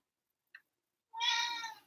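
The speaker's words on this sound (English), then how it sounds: "My cat cries because my cat loves me." A house cat gives one clear, fairly close meow near the end, after a tiny faint click and a stretch of quiet.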